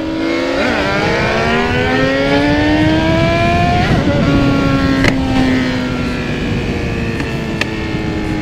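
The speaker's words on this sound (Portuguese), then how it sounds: "Essa moto dele sobe pra caramba, velho. Só acelera, o bicho empina." A motorcycle revs and accelerates close by, its engine pitch climbing through a rising whine, dropping back, then pulling up again steadily over a busy outdoor background without talk.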